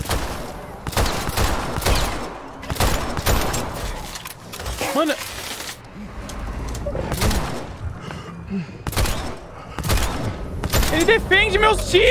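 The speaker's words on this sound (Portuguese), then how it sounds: "Tiros!" Bursts of rapid gunfire crackle repeatedly, loud and close, with pauses between volleys and voices shouting over them, in the video game Dead Island 2.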